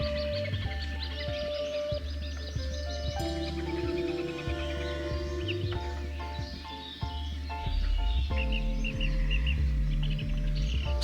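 Birds calling around a wetland bird colony in Balta Mica a Brailei, Romania, with many overlapping chirps and songs over a steady low ambient hum throughout.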